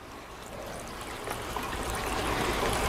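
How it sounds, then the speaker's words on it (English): Water poured over a butterfly water station gives a steady splashing trickle that grows slightly louder and fuller as the pour goes on, close by and with no talk. "just take some water and just wet everything down real good"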